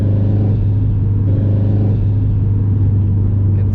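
A 2005 Subaru STI with a COBB 20G turbo, full exhaust, lightweight crank pulley and intake accelerates hard, its engine roaring loud and close in a steady, continuous drone with no voices.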